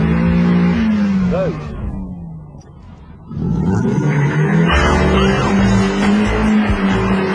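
A Mercedes track-day car drives on a race track, its engine droning loudly and pulling away, then quieting before roaring back up under a voice speaking.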